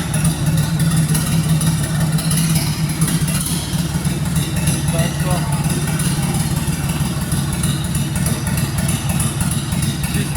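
A mini tractor engine runs steadily as the tractor drives along, a continuous mid-pitched drone with a strong low rumble throughout, fairly close and with no talk over it.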